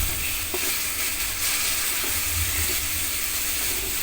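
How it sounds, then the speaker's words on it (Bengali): Dried chepa fish frying in hot oil with salt, giving a steady close sizzle and hiss throughout with faint stirring clatter, no voices. "এটা ভালো করে একটু তেলে ভেজে নিয়ে তারপরে পুরোটা মিশিয়ে দিব।"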